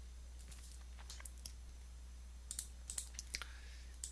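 Sparse, light clicks in small clusters, close and crisp, over a steady low hum with no talking.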